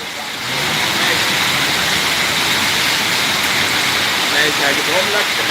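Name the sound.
heavy rain in Kuwait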